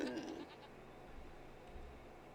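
Goats bleating in Farming Simulator 25, a game farm pen holding a large herd; one loud bleat opens, then fainter scattered calls over low ambient farm noise.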